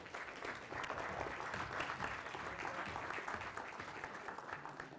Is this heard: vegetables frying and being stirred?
no